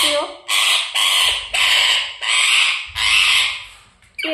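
A pet talking parrot gives harsh, loud caws mimicking a crow, six or seven rasping calls in an uneven series with short gaps between them, close to the listener.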